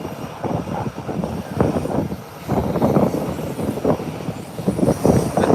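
Airbus A319 airliner being pushed back at an airport, a steady low engine rumble and roar with a rough fluttering texture, fairly loud and continuous, with no voices.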